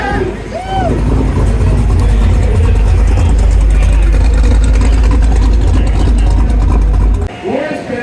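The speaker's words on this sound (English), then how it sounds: "Roy Betancourt, from Newcastle, California, is navigating in a 1933 Chevy Astra Coupe." A 1933 Chevrolet coupe vintage car rolls in at a Great Race stop in Joplin, Missouri. Its loud, steady, low engine rumble fills the scene up close, with voices faintly over it, then cuts off sharply near the end.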